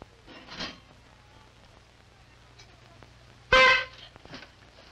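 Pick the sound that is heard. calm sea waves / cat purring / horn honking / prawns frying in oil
horn honking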